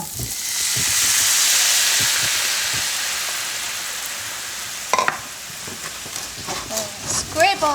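Red wine poured into a hot pan hisses in a loud, swelling sizzle that slowly fades, followed by scraping at the bottom of the pan to loosen the browned bits, with a voice talking over the later part.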